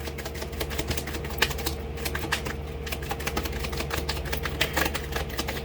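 A tarot card deck being shuffled, giving a steady run of quick, close papery riffles and taps with no talk over it.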